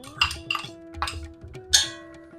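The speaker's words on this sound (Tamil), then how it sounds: "இப்போ ஊற வச்சிருக்கிற பாஸ்மதி அரிசியை சேர்த்துக்கலாம்." Soaked basmati rice tipped into a pan of ghee and grated carrot and stirred, giving a few sharp, close clatters of a spoon against metal over a steady faint background hum.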